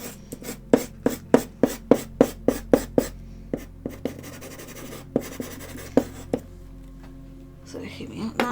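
Charcoal stroked across paper in quick, rhythmic scratchy strokes, a dozen or so evenly spaced at first, then sparser, louder scrapes.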